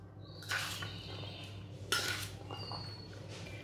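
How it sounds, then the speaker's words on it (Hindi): A spoon faintly clinks against a bowl a few times while chaat spices and salt are stirred together, with low steady hum beneath and no talking. "मसाले को मैंने अच्छी तरह मिक्स कर लिया है।"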